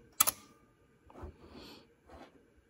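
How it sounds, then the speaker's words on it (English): The shutter of an open-backed Canon F1 film camera fires as a single sharp, close mechanical snap, followed by faint soft mechanical rustling. "demonstrate the shutter from this angle"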